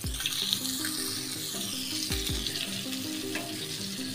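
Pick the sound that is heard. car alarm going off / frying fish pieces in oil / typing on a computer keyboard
frying fish pieces in oil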